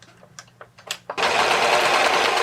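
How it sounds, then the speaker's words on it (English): A serger overlock machine stitches a pocket edge, starting after a second of fabric handling and clicks, then running at a steady fast hum and rattle, close and loud, with no talk. "if you have a serger and overlock machine, you can just overlock that edge as well too"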